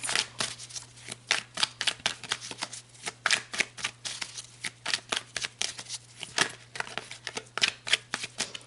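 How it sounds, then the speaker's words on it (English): Tarot cards are shuffled by hand up close, with rapid repeated riffling bursts in a steady uneven rhythm over a faint background hum. "All right, let's pull some more cards."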